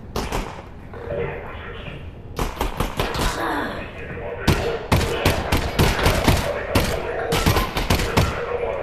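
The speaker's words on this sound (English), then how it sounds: "I'm not good in shooting like that." Gunfire in the VR shooter Half-Life: Alyx, a run of sharp loud shots in uneven bursts with some rapid clusters, ringing over continuous game ambience.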